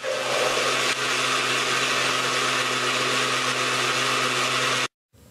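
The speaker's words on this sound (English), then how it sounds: "Blend for 1 minute." A blender runs continuously, mixing lecithin powder into distilled water with a steady loud whirring drone for about five seconds before cutting off abruptly.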